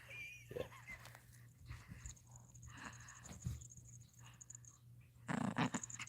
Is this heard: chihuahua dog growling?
yes